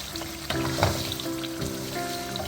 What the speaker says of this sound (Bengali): 3 মিনিট পরে আরেকবার ভালো করে মাংস এবং মশলা সব কিছু নেড়ে মিশিয়ে নিচ্ছি